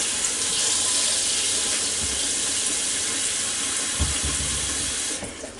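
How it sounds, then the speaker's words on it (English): Water pours steadily from a tap into a pot, a continuous hissing splash that keeps going for several seconds before tapering off at the end. "drain that water in, put you some more water in here"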